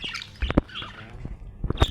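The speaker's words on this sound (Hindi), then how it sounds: "ये जो हमारे ऑस्ट्रेलियन तोते हैं ना" Australian parrots kept with farm animals give several sharp chirps and squawks at close range, short bursts scattered over a busy, noisy background.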